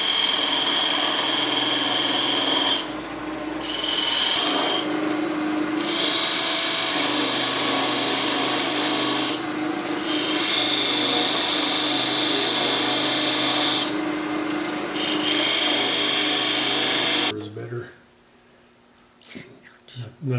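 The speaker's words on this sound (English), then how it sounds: "she's got a beading tool, and she's going to make some beads on her little driver" A wood lathe turns a small driver while a beading tool cuts beads into the spinning wood. Steady, loud, gritty cutting noise with a few brief dips, then it stops abruptly near the end, leaving quiet room sound.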